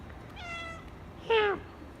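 A house cat meows twice nearby, a softer drawn-out meow followed by a louder, sharper one, against a quiet indoor workshop background.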